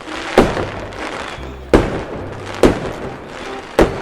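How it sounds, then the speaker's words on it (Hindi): Cartoon firecracker rocket explosions, four sharp booming bursts spaced about a second apart, each with a quick rise and short decaying rumble, loud and close with no talking. "रॉकेट चलते ही घूमते हुए सीधे अनार राक्षस के पेट में जाकर घुसता है और बहुत बड़ा धमाका होता है"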